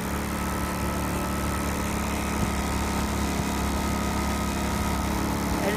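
A fuel-injected 3.8 kVA portable generator running outdoors, a steady, loud engine drone with an even buzzing hum that holds constant throughout, no voices.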